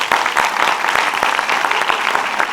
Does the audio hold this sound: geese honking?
no